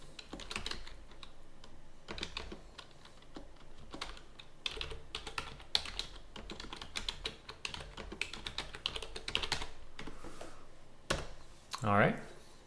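Close, continuous clicking of a computer keyboard as text is typed, with rapid uneven keystrokes, a short pause and a louder thump near the end.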